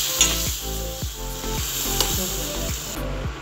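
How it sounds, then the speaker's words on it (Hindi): Milk poured bit by bit into a hot roux for Indian-style white sauce pasta sizzles and hisses loudly, with a spoon repeatedly scraping and clacking against the pan in a quick, uneven rhythm. "अब मैं इसमें थोड़ा थोड़ा करके दूध डालती हूँ।"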